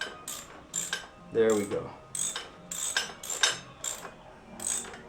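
A ratcheting wrench tightens a nut on a Royal Enfield Continental GT 650 motorcycle, giving close, rhythmic clicking bursts with metallic pawl ticks, followed by a brief spoken remark.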